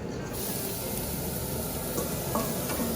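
Cauliflower rice frying in a little oil in a pan gives a steady, soft sizzling hiss that stays even and close throughout, with no voices.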